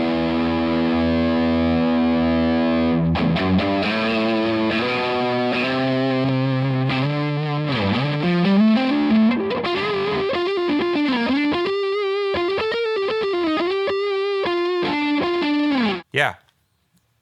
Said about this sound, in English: Let's see if we can get fuzz territory with it.